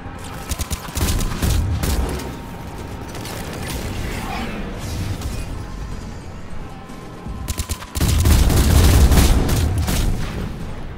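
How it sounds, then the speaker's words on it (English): Loud explosions and gunfire in the video game Mass Effect 3 Legendary Edition, a heavy rumbling barrage that eases briefly and then surges again near the end, close and dominant with no talk. "It's all exploding."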